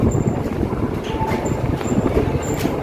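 A loud, steady rail rumble of the Mumbai–Goa Vande Bharat Express on the Konkan Railway, with faint rhythmic wheel clicks and a brief high squeal over the dense roar.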